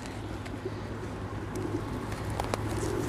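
Pigeons coo softly in the distance while being fed outdoors, over a steady low background rumble, with no one speaking.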